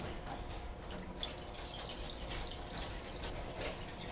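Lysol disinfectant is poured into a washing machine: a soft, steady trickling and splashing of liquid with faint dripping, fairly quiet and without speech.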